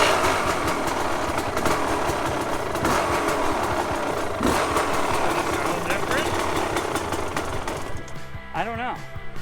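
A KTM 300 XC-W two-stroke dirt bike engine runs after being kick-started, a dense, buzzing idle with a rough pulse, loud and close throughout, with a voice breaking in briefly near the end.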